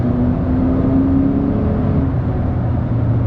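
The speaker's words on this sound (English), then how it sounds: "The engine sounds great. I don't know if you guys can hear that." The engine of a 9th-generation Honda Accord (2013-2017) runs with a steady low hum and a faint rising whine, heard from close by with no talking.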